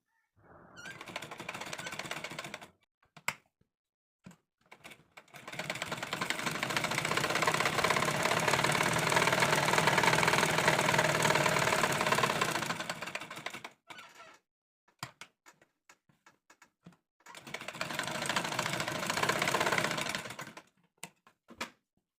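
A sewing machine runs in long bursts while stitching three sides of a coat collar, with a short run, a longer steady stretch and a final burst separated by quiet pauses and a few faint clicks.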